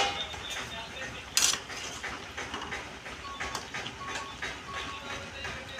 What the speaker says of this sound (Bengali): 10 মিনিট পর আমি ঢাকনাটা খুলে নিচ্ছি।